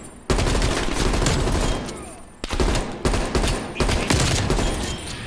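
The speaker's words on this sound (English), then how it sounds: "Just practicing shooting enemies" Rapid gunfire in Call of Duty Black Ops Cold War multiplayer, dense loud volleys of shots in sustained bursts with a short break between them.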